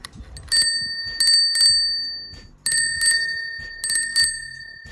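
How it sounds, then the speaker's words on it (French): An old-fashioned Peugeot bicycle bell on a Riverside Touring 520 bicycle rings close by in several bright, metallic double dings, each leaving a lingering shimmer before the next. "je lui ai mis une nouvelle sonnette à l'ancienne d'un vélo Peugeot NS"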